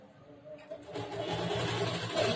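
A sewing machine runs steadily while stitching a churidar top up to the fabric edge, its motor hum starting after a brief pause and then whirring continuously at close range with no talk.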